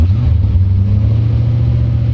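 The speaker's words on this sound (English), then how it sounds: "starts right up with that EFI." A 1928 Ford Model A roadster street rod with an EFI engine idles steadily after firing up, a close, continuous low rumble with no talk over it.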